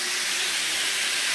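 A Kato N scale E235 Yamanote line model train runs around a layout, heard as a steady, even hiss and whir that holds constant and close, with no voices over it.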